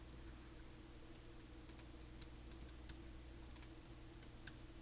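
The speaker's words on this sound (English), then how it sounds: "I'm just typing RE and it'll automatically change it to real" Typing on a computer keyboard to enter variable tags in structured-text programming software: scattered soft key clicks at irregular intervals over a steady low hum, with no talking.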